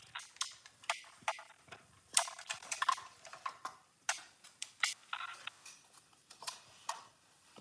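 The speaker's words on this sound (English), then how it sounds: "So let's die cut this." Handling a Stampin' Up Cut and Emboss machine to die cut card stock: close, dry clicks, ticks and mechanical rattles come in irregular bursts, with a quiet pause between each cluster.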